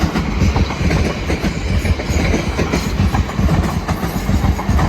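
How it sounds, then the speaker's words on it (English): A Class 701 train runs through Clapham Junction with a loud, steady rumble and rhythmic clickety-clack of wheels over the rail joints, close by and constant throughout. "So we've got this 701 going to Windsor"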